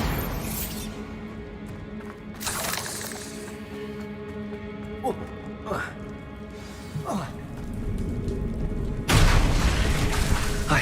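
A Bombarda blasting spell goes off in Hogwarts Legacy, a heavy booming explosion with crashing debris that swells near the end after several smaller thuds and impacts, heard under game ambience and a voice talking.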